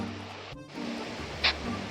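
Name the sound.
water flowing down Chinnakallar waterfall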